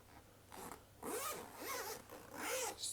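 Zipper on a padded D-ring card binder being unzipped in several quick, close, rasping strokes, each pull a little longer than the last, with no talking.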